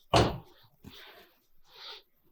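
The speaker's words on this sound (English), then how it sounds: "I'm going to actually go ahead and just close down the doors here for them." A solid McLaren Elva car door thud lands first, followed by two softer shuffling, rustling sounds nearby, with quiet gaps in between.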